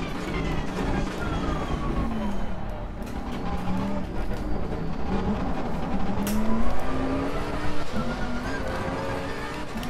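A race car engine in Assetto Corsa Competizione drones steadily, its pitch rising and falling as the driver brakes late into corners and accelerates out, loud and continuous with no talk.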